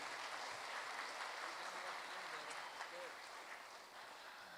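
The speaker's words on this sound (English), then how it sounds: "one more time, a big round of applause for Griffin Middle School" Applause for Griffin Middle School at a city education awards ceremony, a steady, fairly distant wash of clapping from an audience, even and sustained before fading slightly.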